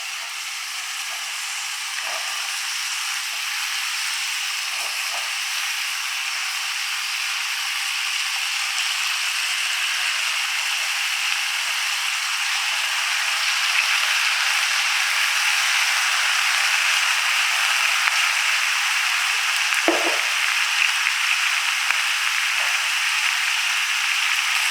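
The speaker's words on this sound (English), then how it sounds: "We'll melt butter and put apples in the fry pan." Sliced apples fry in melted butter in a fry pan over medium-low heat, giving a steady, close sizzle and hiss that holds at an even level throughout.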